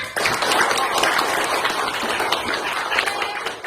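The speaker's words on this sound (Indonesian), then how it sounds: "Tepuk tangan dulu untuk semuanya." Children in a classroom clap together for everyone, a thick, steady patter of many small hands that starts abruptly and continues at a fairly even level for several seconds.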